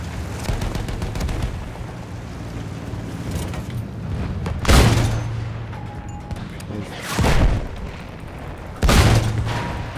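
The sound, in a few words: grenade explosion in the video game Battlefield 1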